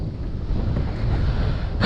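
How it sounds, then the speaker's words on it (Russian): Strong north wind roars and buffets the microphone in a steady, heavy rush, with faint water movement underneath and no voices, while fishing by a river. "Дует северный ветер."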